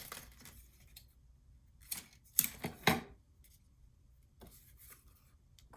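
Scissors cut paper ribbon during junk journal crafting, giving a few quiet, close snips clustered together amid soft handling rustles.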